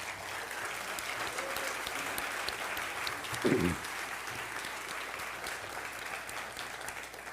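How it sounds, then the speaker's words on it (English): An audience applauds the candidates at an in-person city council forum in Ventura. Steady clapping from a moderate-sized crowd runs for several seconds, even and somewhat distant in a hall. "how about a round of applause for all of them?"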